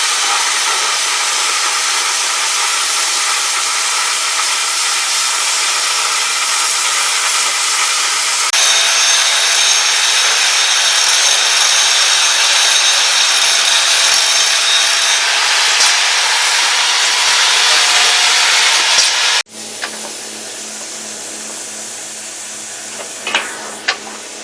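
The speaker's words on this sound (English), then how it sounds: "So we need to cut holes out." A power tool cuts holes for fuel or water tanks during a wooden boat build, giving a steady, loud, high-pitched whine that runs continuously for about twenty seconds, then stops abruptly and is followed by quieter tool handling with brief sharp knocks.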